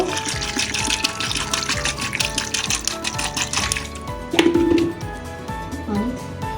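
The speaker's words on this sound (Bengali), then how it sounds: "এবার একটু পানি দিয়ে দেব।" Water is poured into a pressure cooker holding mutton ghugni, a steady splashing gush running for several seconds at close range amid kitchen clatter, with a brief louder pour near the end.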